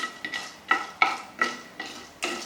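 Roasted gram fries lightly in coconut oil while a spoon stirs it in a pan, giving seven rhythmic scraping strokes with faint metallic clinks over a soft sizzle, no one speaking.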